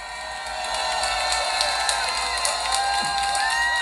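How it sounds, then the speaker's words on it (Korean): Crowd at a rally cheering and applauding loudly as a speaker is welcomed to the stage, a dense continuous roar of shouts and whoops that swells after a quiet start and holds steady. "500대 1의 전설 조슈아 김님을 박수로 모시겠습니다"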